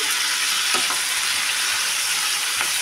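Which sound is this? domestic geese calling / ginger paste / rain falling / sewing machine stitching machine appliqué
ginger paste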